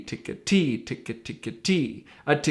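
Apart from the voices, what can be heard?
No distinct noise like a dog, phone or traffic.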